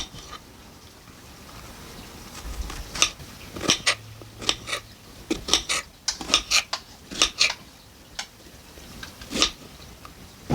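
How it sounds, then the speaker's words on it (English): Strawberries being sliced with a knife make a string of sharp, irregular taps of the blade striking the board, close and fairly quiet with no talking. "let's cut some strawberries"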